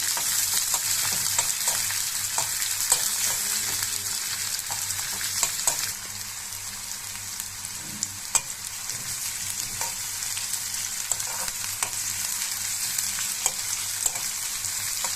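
Onion, green chili and garlic frying in oil in a kadai wok give a continuous close sizzle, punctuated by scraping stirs and small taps of the utensil against the pan.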